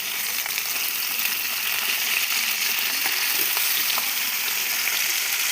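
Fish frying in hot oil in a wok, a continuous bright hiss and crackle of sizzling with scattered pops and small clinks, steady and close throughout, with no talk.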